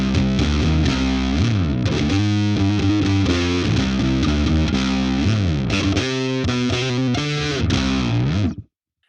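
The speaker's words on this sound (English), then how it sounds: "It just sounds like a P bass going through a valve amp and just giving it some" P-style bass guitar through a boutique handmade Flattley effects pedal into a valve amp, played as a loud, gritty, overdriven run of punchy, articulate notes for about eight seconds before stopping abruptly.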